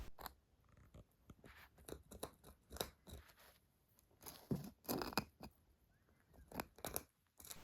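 Pet rabbits gnawing and munching on a crunchy Timothy hay bowl, close up, with irregular bursts of crisp crunching and tearing bites separated by brief pauses.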